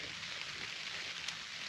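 Steady rain patters on a tent during a motorcycle camping trip in Pembrokeshire and the Brecon Beacons, Wales, a continuous soft hiss with no clear individual drops and no voices.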